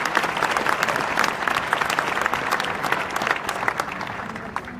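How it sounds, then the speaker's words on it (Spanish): Steady, dense applause from a large audience at a conference hall event in Aguascalientes, Mexico, a continuous wash of many hands clapping close and loud for the full stretch, without talk over it. "Les pido un aplauso para ellos."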